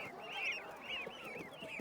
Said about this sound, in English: Yeah, baby goose.